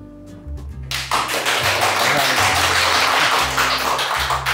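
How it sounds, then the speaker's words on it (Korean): Audience at a hospital health lecture on sleep hygiene bursts into sustained applause, a dense, loud wash of many hands following a few isolated taps and a brief voice at the start. "그래서 박수 감사드리고, 받는 박수도 저도 감사하고"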